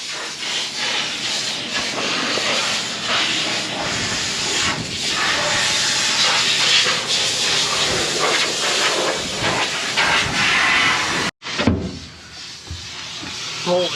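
Compressed air blasts into a combine's straw chopper during post-harvest maintenance on a farm, a loud continuous rushing hiss with uneven surges, cutting off abruptly near the end before a quieter burst resumes.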